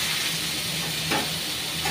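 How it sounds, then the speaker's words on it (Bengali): Vegetables frying in a pan, a constant soft sizzle with a brief louder burst near the end, no speech. "এটা একটু লাল লাল করে এটা আমি ভাজবো।"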